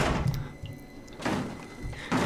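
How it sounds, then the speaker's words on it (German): In the Outlast horror game, heavy thuds strike a door in three separate bursts spread over a couple of seconds, moderately loud against a quiet background. "Bricht da gerade jemand durch die Tür?"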